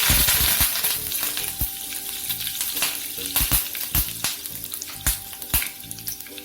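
Curry leaves drop into hot oil already popping with mustard seeds for a tempering, a steady close sizzle and spatter with sharp crackling bursts scattered throughout.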